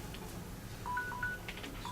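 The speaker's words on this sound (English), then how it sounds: "that was my timer" A speaker's timer goes off during a talk at an agile conference, giving a few short, faint electronic beeps in quick succession over quiet room noise.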